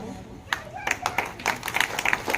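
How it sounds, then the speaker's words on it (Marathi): An audience at a family honour ceremony claps, with scattered, uneven handclaps building briefly while a voice speaks over them. "टाळ्यांचा आवाज कमी होता का आम्हाला?"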